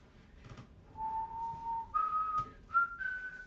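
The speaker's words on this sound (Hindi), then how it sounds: "आप सीटी क्यों उड़ा रहे हैं?" Someone whistles a slow tune in a confined lift, a few long held notes rising in pitch with short breaks between them, clear and close over faint background noise.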